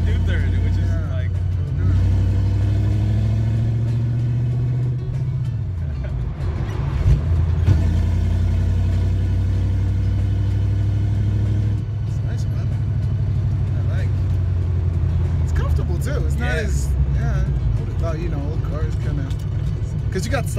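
A V8 Valiant's engine drones loud and close from inside the car, its pitch climbing through a gear, dropping at the shift, then rising again, while people talk over it throughout.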